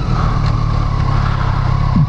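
A 2017 Triumph Street Triple RS motorcycle engine holds a steady, loud drone as it pulls hard, with a low rumble under a constant higher whine and no voices over it.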